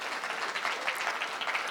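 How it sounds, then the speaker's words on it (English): Audience applause at a business talk on legacy, diversity and entrepreneurship: a dense, steady wash of many hands clapping together, sustained and even throughout without a break. "can we give Lady Pam a big round of applause, ladies and gentlemen?"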